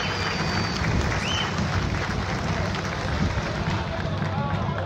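Steady applause from a crowd during a staff introduction at a Campinense football team presentation, dense clapping mixed with crowd noise, continuous and loud throughout.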